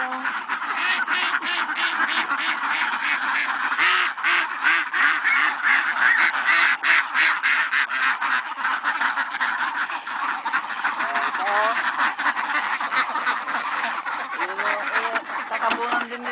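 A flock of ducks quacking constantly, dense overlapping calls close by and loud, with faint voices now and then while duck eggs are collected.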